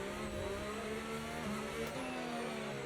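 Race cars in a racing video game roar as one steady, loud engine drone, with a constant high whine and several overlapping engine tones that hold without a break.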